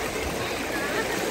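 Water rushes over rocks at Puliancholai falls, a dense, constant hiss and roar that holds steady and fairly loud from start to finish.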